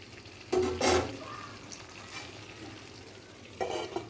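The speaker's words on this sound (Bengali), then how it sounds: "চাপা দিয়ে দিয়ে ভালো করে কষিয়ে নিচ্ছি।" Spice paste for a soybean and potato curry being sautéed and pressed in oil, soft sizzling with two louder bursts of stirring and scraping, close and steady.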